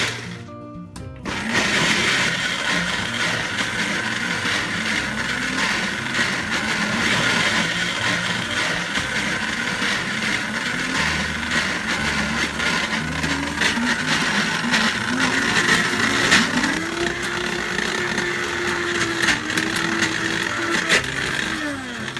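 A blender runs loudly and steadily, pureeing tofu with artichoke and artichoke juice, its motor whirring without pause and shifting pitch slightly as the mixture thickens.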